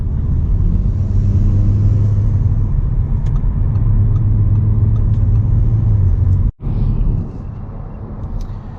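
Steady loud road rumble and engine drone from inside an Audi S4 merging onto a highway, with a brief dropout and a few faint clicks along the way.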